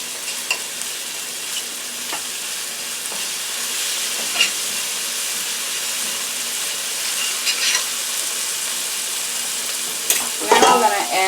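Cranberry garlic paste stirred in a hot pan, a loud continuous sizzle with scraping utensil strokes throughout and a burst of clattering near the end.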